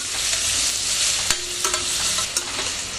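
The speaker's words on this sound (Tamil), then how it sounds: "நல்லா ப்ரௌன் ஆகிற வரைக்கும் இந்த வெங்காயம் மட்டும் சிம்மில் வச்சு தான் வதக்கணும் பிரியாணிக்கு" Onions sautéing on low heat in a pan for biryani, a steady soft sizzle broken by a few sharp clinks and scrapes of a stirring spoon, close and continuous with no talking.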